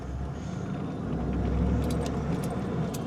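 A Toyota Land Cruiser 70 stuck in beach sand rocks free, its engine giving a steady loud low rumble that swells slightly midway, with light rattling above.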